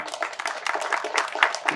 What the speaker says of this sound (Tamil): த கைத்தட்டல் கொடுங்க